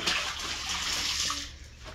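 Clothes being washed by hand in water in Usulután, El Salvador, a continuous close sloshing and splashing that fades slightly at the end.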